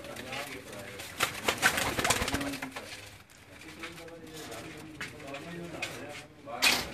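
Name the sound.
pigeons cooing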